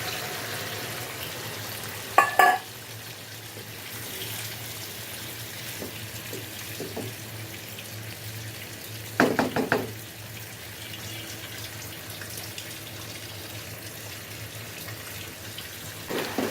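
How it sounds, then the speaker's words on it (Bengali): Water poured into a pan of simmering village-style chicken curry, with two short splashing bursts a few seconds apart over a quiet kitchen background. "একটু সামান্য পরিমাণে পানি দিয়ে দিব।"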